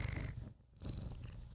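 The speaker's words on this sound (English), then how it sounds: "You can purr." A house cat purrs close up in a continuous rumbling drone, briefly softening near the middle before resuming at full strength.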